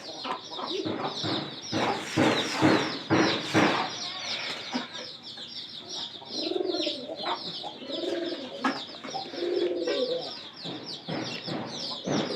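Pigeons coo repeatedly in a coop, soft rolling calls close by, mixed with other bird noises and occasional rustling, with some faint voices in the background.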